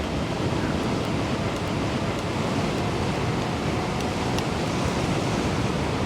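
Steady, loud wind roar buffets the microphone while riding a 60V Goat Power Bikes Power Goat e-moped along a windy road, a dense unbroken rush with no talk.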